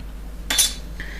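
A blade slicing through a folded cane of FIMO polymer clay, one short sharp scrape and click on a hard work surface, close and quiet, alone without talk.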